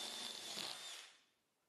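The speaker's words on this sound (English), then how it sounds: "drill through the bodywork" Electric drill with a 3–3.2 mm metal-cutting bit boring through van bodywork: one loud, close, high-pitched whirring grind that runs for about a second, then winds down and fades, with no talk.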